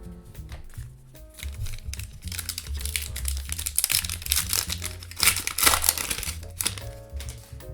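A Topps Heritage 2026 baseball trading card retail pack is torn open, giving steady crinkling and crackling foil rustle that builds over several seconds under a soft musical background.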